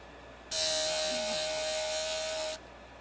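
JOOLTOOL grinder shaping a turquoise slab into a cabochon, a close steady high buzz starting abruptly and running for about two seconds before cutting off, with faint talking underneath.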